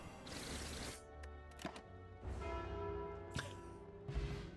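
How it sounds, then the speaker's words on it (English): Slay the Spire's bell sound effect, a few quiet ringing strikes with tonal decay, interleaved with sharp thumps and game effects, alone without talk. "Never gonna get over that bell noise."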